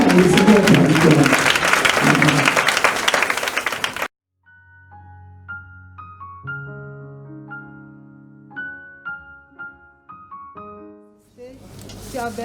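A church congregation applauds and cheers loudly for about four seconds in praise of the Lord, then breaks off into sustained keyboard-like tones, with a fresh burst of clapping at the very end.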